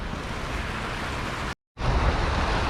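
Rough water rushing over a small spillway, a steady broadband roar close to the microphone, briefly cut by a short dropout and then resuming loud and churning.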